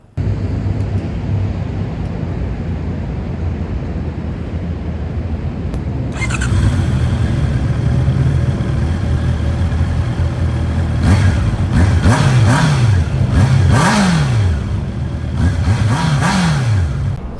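A Honda CB650R E-Clutch motorcycle engine idles steadily, then rises into a louder, fuller run with several quick rev blips toward the end, close by with no talking.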